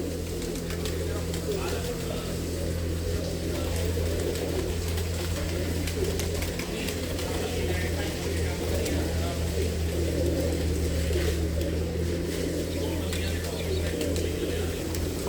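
Pigeons coo continuously in a village loft in Madhpur near Samrala, a dense, steady murmur lasting throughout, with someone talking over it and a low hum beneath.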